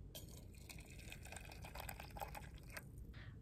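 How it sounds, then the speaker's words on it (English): Hot water poured from a kettle onto loose tea leaves in a cup, a soft continuous trickling splash, faint and close, with no voices. "So just going to add some water here."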